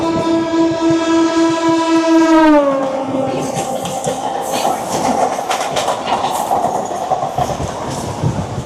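A Howrah to Digha local train sounds its horn in a long sustained blast that bends down in pitch, then rumbles onward with steady clattering wheels while pulling into Deulti station.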